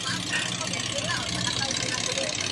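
A motorcycle engine idles nearby in a steady, low, even putter while people talk over it.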